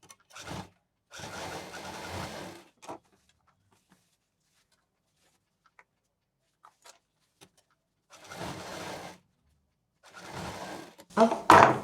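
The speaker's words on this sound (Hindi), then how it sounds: "अब इस बेल्ट को यहाँ पर इस तरह से लगा करके और सिल देंगे।" A sewing machine stitches a denim belt onto a bag made from jeans. The motor whirs up in four separate runs, each lasting about a second or two, with near silence between them.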